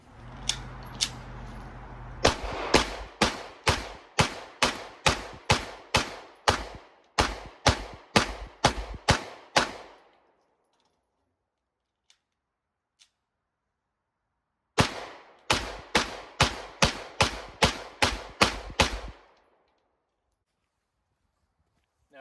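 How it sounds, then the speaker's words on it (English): Sig Sauer M17 (P320) pistol fired rapid-fire at an outdoor range, two strings of about a dozen sharp, loud shots each in quick steady rhythm, split by a quiet pause. "Let's try to do a little bit of rapid fire shooting."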